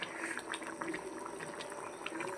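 Egg curry simmers in a pot on a home kitchen stove, giving off a steady, close, continuous bubbling and sizzling hiss with no break.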